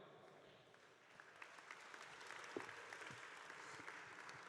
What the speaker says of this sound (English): An understandably tepid applause after Tremaine Hamilton and Bryce Hall Knight.